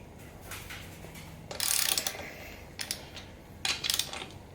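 Close, fairly quiet clicking of a socket ratchet with a 15mm socket loosening valve rocker arm bolts on a BMW Airhead engine, in short bursts of rapid ticks separated by pauses.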